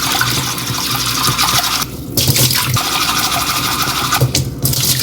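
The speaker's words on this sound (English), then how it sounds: "take the CHASEN and whisk it in plain water like I'm whisking matcha" A bamboo matcha whisk is swished vigorously through plain water in a tea bowl to clean it, giving a loud, continuous watery churning with a couple of brief pauses.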